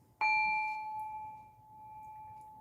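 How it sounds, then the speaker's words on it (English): A single strike on a singing bowl during a meditation session, a clear bright ding with a sharp onset that rings on as a long, steady, slowly fading tone and stays alone without talk. "And as I chime the singing bowl,"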